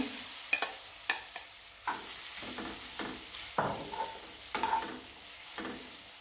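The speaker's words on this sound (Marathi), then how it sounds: "तूप मेल्ट झाले की आपण त्याच्यामध्ये नारळाचा 2 वाट्या किस घेतलेला आहे तो टाकून घ्यायचा." Grated coconut stirred in melted ghee for mango coconut barfi, giving soft scraping spatula strokes at an irregular pace over a faint sizzle, fairly quiet and close, with no voices.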